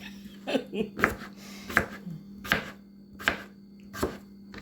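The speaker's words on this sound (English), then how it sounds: "when I get all these chopped up" Knife chopping cooked potatoes on a cutting board, a steady series of about seven sharp, close thuds spaced roughly evenly, with a low steady hum underneath and no talk.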